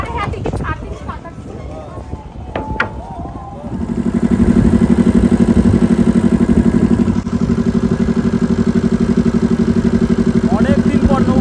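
A passenger ferry boat's motor drones steadily and loudly through a ride after some clattering and boarding noise, with people talking nearby.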